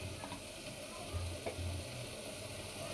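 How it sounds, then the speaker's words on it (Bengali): Spice paste of turmeric, red chili, coriander and salt fries in a pan, a soft, close, continuous sizzle with light stirring scrapes and no talking. "তো মশলাটাকে আমি সুন্দর করে কষিয়ে নিব।"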